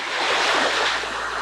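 Surf washes in at a fine white silica sand beach in Australia, a loud, continuous rush of breaking waves with wind across the microphone and no voices.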